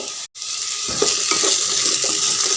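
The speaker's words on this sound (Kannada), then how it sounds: "ಆಲೂಗಡ್ಡೆಯನ್ನು ಒಮ್ಮೆ ಚೆನ್ನಾಗಿ ಮಿಕ್ಸ್ ಮಾಡ್ಕೊಳ್ಳಿ" Raw potatoes for a vegetable kurma are stirred in a pan, with a steady loud sizzle and frying hiss under soft scraping stir strokes, close up.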